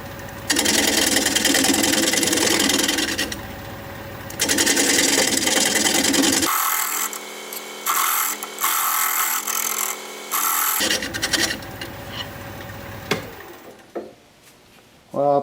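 Wood lathe spinning a piece of wood at higher speed with a tool cutting against it, loud bursts of turning noise broken by quieter stretches where the cut pauses and resumes, ending in softer scraping.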